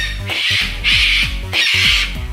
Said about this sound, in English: I'm really sorry if those birds are really loud